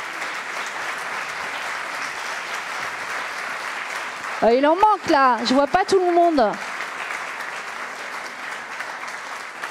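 An audience at the opening of the first day of the 2023 straw building congress in Poitiers applauds in a sustained wash of clapping, while someone speaks over it briefly midway.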